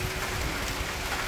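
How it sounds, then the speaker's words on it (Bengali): Steady light rain falling in a rural Bengali village as a storm begins, a dense continuous hiss with cold wind noise rumbling underneath, no voices heard. "মানে বাতাসটা ঠান্ডা হয়ে বৃষ্টি একটু পড়তেছে।"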